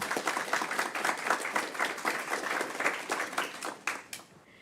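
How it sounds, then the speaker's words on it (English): Applause at a council meeting as staff and council congratulate a colleague: dense, even clapping from a room of people, fairly loud and sustained, thinning out at the very end. "I'd like to congratulate Ali and give her a round of applause."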